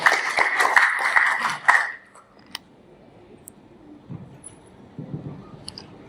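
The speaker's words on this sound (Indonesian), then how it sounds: "Ya, kita tepuk tangan dulu Bapak" A seminar audience in a hotel claps: dense, lively applause lasts about two seconds, then fades into a quiet room with a few faint stray noises.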